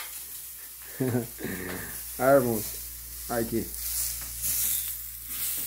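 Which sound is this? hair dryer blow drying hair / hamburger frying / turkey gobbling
hamburger frying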